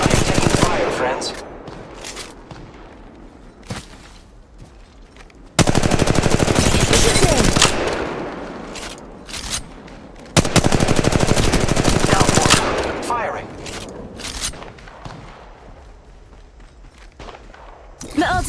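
Rapid automatic gunfire bursts in the video game Apex Legends Mobile, loud repeated volleys with footsteps between them, while someone talks over the shooting.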